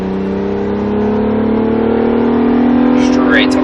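An Acura NSX comes back on throttle on a racetrack: a loud, close engine tone rises steadily, building smoothly in pitch and volume across the short stretch.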